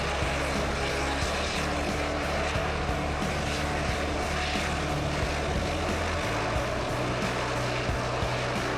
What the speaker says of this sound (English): Here is our Bombardier Dash 8 Q200 arriving from Ísafjörður.